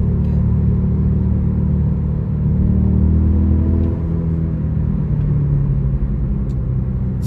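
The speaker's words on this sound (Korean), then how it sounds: "스포츠 모드로 지금 달리고 있는 중입니다" A car's engine drones in a deep, steady rumble while driving in sport plus mode, heard from inside the cabin as a continuous loud hum with slight shifts in pitch.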